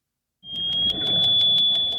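Modern active sonar: a loud, steady high tone layered with rapid rhythmic pings, about several per second, over a low rumbling wash of multiple frequencies.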